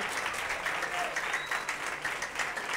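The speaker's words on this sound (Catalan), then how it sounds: "Et fem un aplaudiment" Studio audience applause on a Catalan TV quiz show, a steady burst of clapping from a small crowd, close and continuous, with a voice faintly underneath.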